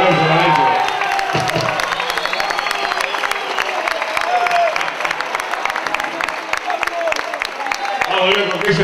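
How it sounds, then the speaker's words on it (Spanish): Audience applause and cheering at a Spanish-language rock television show, a dense wash of clapping with whoops and shouts rising over it, fairly close and steady throughout. "un aplauso para eso"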